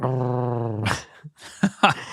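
A person imitates a dog with a voiced, rumbling growl that rises into a rough snarl, followed by short breathy grunts and yips, close to the microphone.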